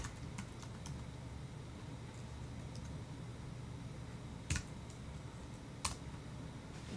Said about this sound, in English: I'm going to go ahead and type my email address in here